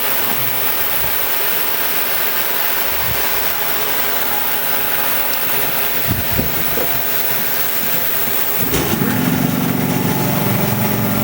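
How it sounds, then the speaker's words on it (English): An air compressor runs steadily with a constant dense whirring drone, loud and near, its tone shifting slightly near the end, with no talking over it. "we need to go turn on the compressor"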